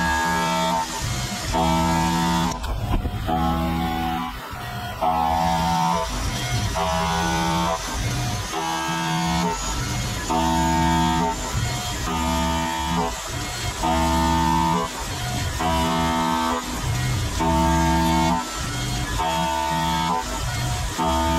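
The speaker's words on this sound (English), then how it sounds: "So we're ready to machine the other side of it." A Tormach 770M CNC mill machines a rail bearing plate, giving a loud, repetitive pulsing whine with regular cutting passes about every second and a brief burst of hissing early on, with no talking.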